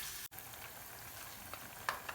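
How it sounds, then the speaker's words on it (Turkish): Steady, quiet sizzling of onions frying in oil in a pan, a continuous hiss with a few faint pops and stirring sounds. "Soğanlarımız ölene kadar güzelce kavuruyoruz."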